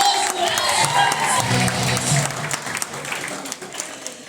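An audience applauds Felipe at a Brazilian talk event, loud dense clapping with cheering and whoops at first, gradually thinning toward the end.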